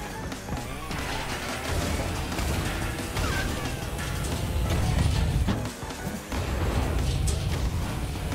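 A kart in Crash Team Racing slams into a Nitro crate, giving a loud smashing burst over busy game noise, with a whoosh and further clattering impacts after it.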